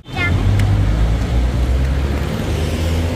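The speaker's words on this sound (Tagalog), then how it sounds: "Daming sasakyan sa gantong oras. Ang traffic talaga." Inside a car crawling through heavy traffic on the way to a concert, a loud, steady low engine and road rumble fills the cabin from start to finish.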